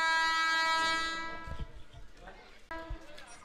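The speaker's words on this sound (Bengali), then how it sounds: "কিছু দেখা যাচ্ছে না, আওয়াজ শোনা যাচ্ছে।" A local train on the Sealdah to Bangaon line sounds its horn loudly and steadily, then the horn fades into rumbling and rail clatter before a second horn blast; a voice talks briefly over it.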